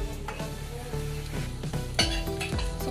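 Adobong sitaw (string bean adobo) simmering in a pot after hot water from a thermos is added: a close, steady sizzle and bubbling with bursts of stirring and light clinks of a utensil against the pot, and no talking.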